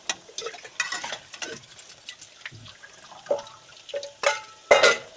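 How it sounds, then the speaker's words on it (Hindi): Momos frying in a pan in a home kitchen, giving intermittent sizzles, spatters and stirring clatter, with sharper pops and clinks near the end, fairly close and moderately quiet. "ये हम फ्राई कर रहे हैं मोमो"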